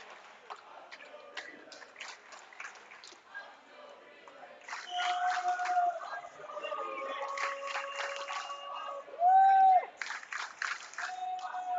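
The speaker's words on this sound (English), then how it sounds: "Everybody cheering for Osseo's last swimmer in the last" Swimmers from both Maple Grove and Osseo cheer for Osseo's final relay swimmer at an indoor boys' high school swim meet, a sustained echoing crowd roar that swells midway, with a loud whistle-like tone and a commentator talking over it.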